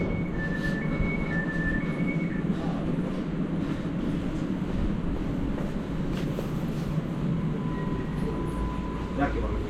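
A train rumbles steadily at a station platform in Poland while people talk nearby, with faint squeals and announcement-like tones above the low drone.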